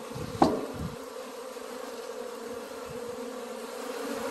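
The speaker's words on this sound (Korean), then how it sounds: "이게 동양종 꿀벌이죠." Asian honeybees, a native colony, drone in a continuous close buzz at their hive, with a single sharp knock near the start.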